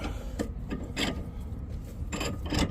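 A car jack under a Ram ProMaster van being cranked by hand for a flat tire change, giving a steady series of close, scraping, ratcheting rasps.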